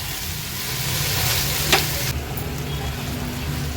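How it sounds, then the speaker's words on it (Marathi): Black pepper prawns with coriander are stirred in a pan over a loud, continuous sizzle, with a short scrape near the middle and no voices. "आता ह्यात खूप सारी कोथिंबीर ॲड करूया आणि याला व्यवस्थित आपण मिक्स करून घेणार आहोत"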